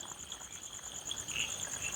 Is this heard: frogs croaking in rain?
yes